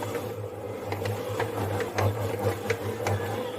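A dough kneading machine works a batch of pizza dough, its motor humming steadily up close with faint repeated knocks from the mixing arm and no voices.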